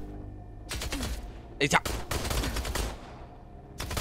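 Gunfire rings out in the video game INDUSTRIA, with sharp bursts of shots coming in clusters while someone talks excitedly over the action.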